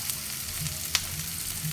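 Tomatoes fry gently over low heat in a pan for an omelette, giving a soft, steady sizzle with a brief scrape of stirring near the middle, no voices over it.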